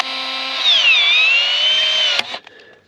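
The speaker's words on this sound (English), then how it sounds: "We're actually going to cut it back a little bit further." A power tool whines steadily through PVC pipe as it is cut back, loud and close with a slight pitch dip mid-cut, ending in a sharp snap and spin-down.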